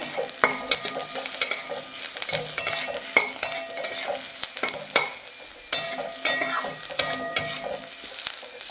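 Bitter gourd stir-fried with salt and turmeric sizzles loudly in a pan, while repeated scraping strokes of a spatula and clinks against the metal sound close and clear throughout.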